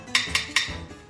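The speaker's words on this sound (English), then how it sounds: "Always gotta test your tongs." Metal barbecue tongs clicking together beside a grill where Greek chicken souvlaki is being cooked, three sharp bright clacks in quick succession, close and loud, followed by a fainter clink.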